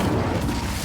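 Incendio fire spell in Hogwarts Legacy, a brief, loud burst of roaring flame with a deep booming rumble.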